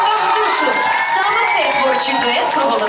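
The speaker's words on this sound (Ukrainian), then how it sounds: "Зустрічаємо їх оплесками." An audience cheers and applauds for a mother-and-daughter duet, with excited children's shouts and whoops rising over a continuous, loud crowd roar.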